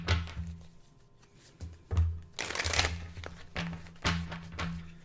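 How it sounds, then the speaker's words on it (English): Playing cards are shuffled close by in several quick riffling bursts, each a brisk papery flutter, separated by short pauses and soft thumps. "Let's pull some cards on them."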